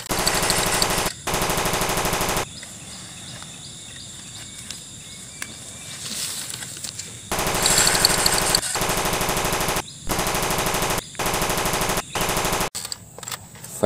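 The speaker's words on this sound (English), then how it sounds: "AK-47." Bursts of AK-47 automatic fire from a gun video game, several sustained loud volleys separated by short gaps and a quieter stretch between them, with no talking.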